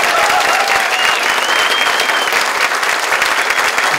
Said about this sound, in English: If I could have a joint round of applause for the two debaters here.